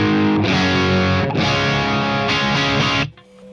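A dry electric guitar signal through a Friedman modified X88R amp into a VHT 2150 and a 4x12 cabinet, with loud distorted chords ringing in three sustained strums before cutting off.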